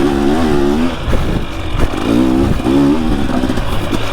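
Yamaha YZ450 four-stroke motorcycle shifting between second and third gear, a close, loud engine note that climbs and drops with short breaks at each change.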